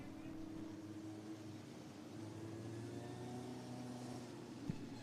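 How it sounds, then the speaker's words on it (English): Midget race cars circling a speedway oval, a faint distant engine drone with steady humming tones rising and sliding in pitch, continuous and low in the background. "Northwest Focus Midgets are on the racetrack right now."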